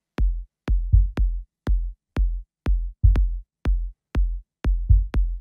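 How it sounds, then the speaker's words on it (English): Processed kick drum layered with a tom plays a steady beat of about eleven hits, each punchy and deep with a tonal ring, dry and isolated with silence between strikes. "And with the kick, it sounds like this."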